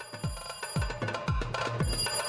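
A telephone ringtone from the visual novel Higurashi When They Cry repeats in regular pulses, each ring clear and fairly loud, with no voices over it.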